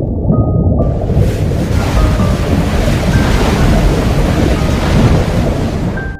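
Stormy ocean waves crash and roar continuously with heavy surf and wind, loud and close, a dense unbroken wash of sea noise lasting several seconds.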